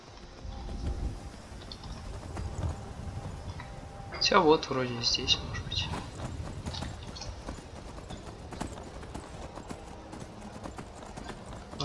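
A horse gallops in Skyrim with steady, continuous hoof clatter throughout the modded Requiem playthrough, and a voice speaks briefly over the steps near the middle.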